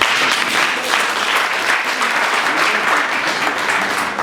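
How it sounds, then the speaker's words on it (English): A crowd at a community gathering in a multi-purpose centre applauds a woman, a loud, dense and steady burst of clapping that fills the room. "I want us to give this lady a hand of applause"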